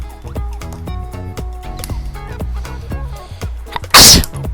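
A single sharp sneeze bursts out near the end, loud and close, after a stretch of small plastic clicks and clatter from assembling Engino toy racing car pieces.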